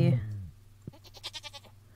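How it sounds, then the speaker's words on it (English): Sheep bleating in the Stardew Valley farming game, a short wavering bleat arriving after an opening tone and a click, fairly quiet and alone. "Oh, I think our baby sheep may be grown up."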